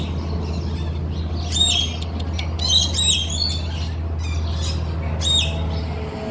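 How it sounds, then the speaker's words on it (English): A pet bird squawks and chirps close by. Several sharp, harsh calls come in bursts over a steady low hum. "Does have a weird little bird tongue"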